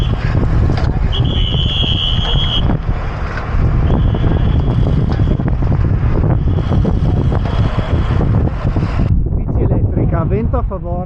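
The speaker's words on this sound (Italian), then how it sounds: "Vento a favore" Strong wind roars steadily across the microphone during a Giro-E bicycle race stage from Treviso to Nova Gorica, a constant loud rush with a faint tone and a brief voice near the end.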